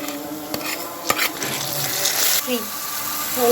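Ginger-garlic paste, onion paste, chili, turmeric and ground spices sizzle and are stirred in a pan for a dried loitta fish curry, with soft scraping and clinks of a utensil against the pan under intermittent talk.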